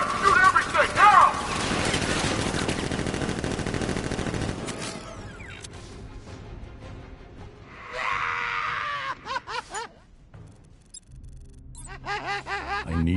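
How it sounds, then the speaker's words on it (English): Militia gunfire in Batman: Arkham Knight, a loud sustained fusillade of automatic bursts for the first few seconds, then scattered shots, shouting voices and other game effects. "Guard! Open fire! Shoot everything! Now!"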